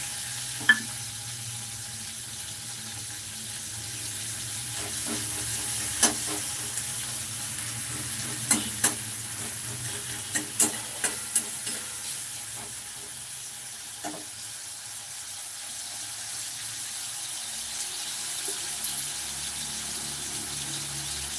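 Chopped onions go into a pan where shrimp has just been fried for a masala curry, giving a steady sizzle with intermittent stirring and scraping clicks, close and fairly quiet, with no talking.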